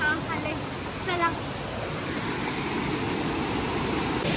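Steady rushing water flows continuously over rocks on a Kokan trail near Sawantwadi, close to a hidden waterfall, a broad even wash at moderate level with a brief voice-like call early on.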